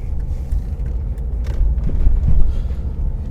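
Car pulling away from a roundabout and driving through Folkestone, a low engine rumble and road noise heard from inside, swelling as it accelerates, with no talk.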